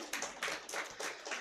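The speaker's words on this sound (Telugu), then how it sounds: "ఇప్పుడు మీకోసం మీరు చప్పట్లు కొట్టుకోండి" An audience at a Telugu talk on married life claps briefly, a faint, loose patter of a handful of hand claps in a short rhythmic run, with no voices over it.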